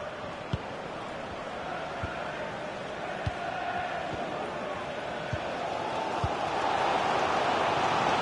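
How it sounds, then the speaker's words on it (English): Stadium crowd noise in the EA FC 26 video game, a continuous dense roar of supporters cheering their team on, with a few faint thuds over it and swelling slightly louder toward the end. "the crowd is certainly trying to motivate the team to push them forward to get the equaliser"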